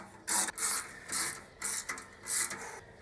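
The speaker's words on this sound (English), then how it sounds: "Be using my trusty Tecton 1/4 inch swivel head ratchet." A Tekton 1/4 inch swivel head ratchet turns in quick repeated strokes, each a close, dry mechanical clicking burst with brief pauses between, during work on an FJ40 Land Cruiser headlight bezel.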